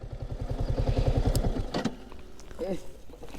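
A Yamaha R15 V3 motorcycle idles with a steady, rhythmic low thumping for under two seconds, then cuts out as it is parked on a foggy winter morning among mustard fields in Dhamrai. Voices talk nearby afterward.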